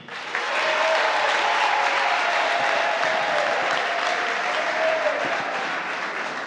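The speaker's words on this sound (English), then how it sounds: "I want to hear a big round of applause from the militants." A crowd of party militants at a 2018 political congress in Bwiam claps for delegates as their names are called. The applause starts abruptly, holds full and steady, and carries a faint tonal hum beneath it.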